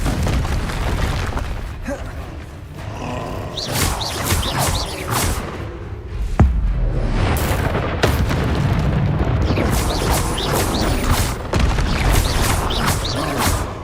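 Confringo spell explosions in the video game Hogwarts Legacy, loud rumbling blasts and crackling magical bursts layered in a dense, continuous battle mix with a sharp impact midway.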